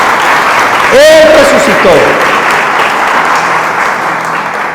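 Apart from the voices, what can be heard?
church congregation applause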